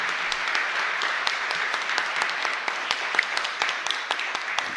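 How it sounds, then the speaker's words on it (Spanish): A congregation applauds the parish priest during a novena at a parish church, with steady, dense clapping that fills the space for several seconds. "Un fuerte aplauso para él."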